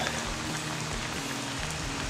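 Steady rain falls on a driveway under construction, a continuous even patter with no talk over it.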